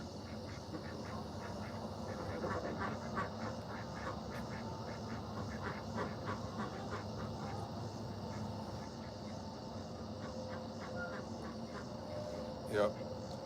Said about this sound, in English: The ducks do a good job about saying, hey, it's time to go to bed